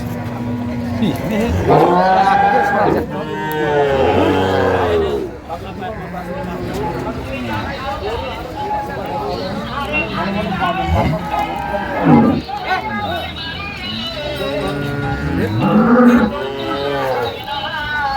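Cows and calves at a busy rural cattle market in Dinajpur, with repeated loud moos rising and falling close by amid steady crowd chatter, people talking throughout.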